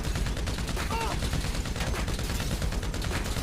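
A combat machine gun fires nonstop in a video game, a dense, loud, continuous rattle of rapid shots that fills the whole stretch, with a voice faintly mixed underneath.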